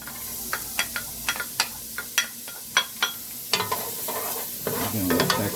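Carrots and celery sizzling in garlic olive oil, with a soft continuous fry under repeated sharp scraping stirs of a utensil against the pan, irregular and close, growing busier toward the end.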